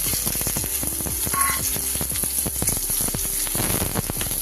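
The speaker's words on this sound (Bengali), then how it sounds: "পেঁয়াজগুলো অল্প সময় একটু নেড়ে নেব এবার দিয়ে দেব ক্যাপসিকাম" Onions and capsicum stir-frying for restaurant-style chilli chicken, a steady dense sizzle with frequent sharp crackles and scraping stirs running throughout at close range.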